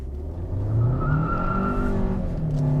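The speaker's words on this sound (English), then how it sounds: "I will turn off traction control and just plant my foot and see how we go" A 2020 Hyundai Sonata in Sport mode accelerates hard with traction control off, its engine note climbing steadily under load as the tyres spin, loud and close for about three seconds.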